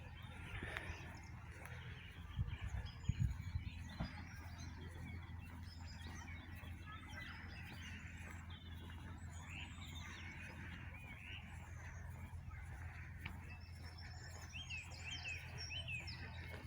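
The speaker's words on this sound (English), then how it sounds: "And the birds singing everywhere." Birds sing and chirp throughout a peaceful riverside campsite, faint and distant over a steady low background hum, with a few brief louder sounds near the start.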